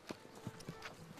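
A horse walks on a trail in Vayots Dzor, its hooves giving a few faint, irregular clip-clops at a distance.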